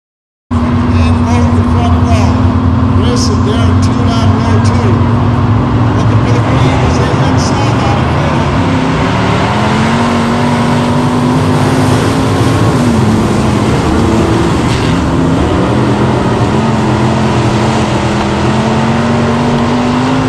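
Race cars in a ten-car field at Chateau Raceway drone and rev continuously and loudly, engine pitch rising and falling, as if heard from inside or near a car.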